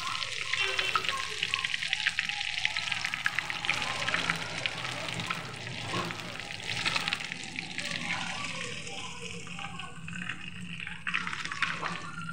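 A batch of paneer 65 deep frying in oil, giving a steady, loud broadband sizzle that runs unbroken throughout, with faint kitchen clatter underneath.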